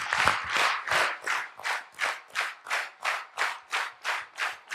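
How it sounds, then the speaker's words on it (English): Audience applause at an induction event, a rhythmic burst of clapping that pulses in even, regular waves for several seconds, fairly close and without voices. "I want to give a big round of applause to the management, the professors, and Deepak."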